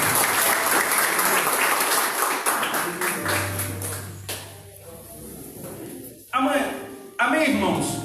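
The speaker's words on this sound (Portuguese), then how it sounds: "Se você crê, aplauda o Senhor Jesus" Church congregation applauding loudly in response to a preacher's call during a sermon, dense sustained clapping that fades and then breaks out again in short bursts near the end, with a voice heard partway through.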